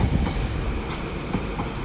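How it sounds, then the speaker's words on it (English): TfL Rail service pulling into Ealing Broadway station on the Great Western Main Line, a steady close rumble of wheels and carriages running continuously with no voices. "Got a TfL rail service coming in."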